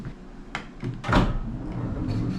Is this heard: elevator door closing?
yes